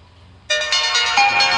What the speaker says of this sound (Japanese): 電話がさっきからすごいな。